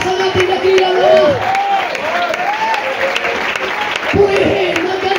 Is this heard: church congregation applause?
yes